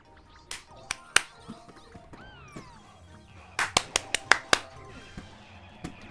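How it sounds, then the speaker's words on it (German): Sharp hand claps used to control a GameCube game, heard as scattered single claps and then a quick burst of five or six, loud and crisp over faint game sounds. "man kann auch einfach klatschen"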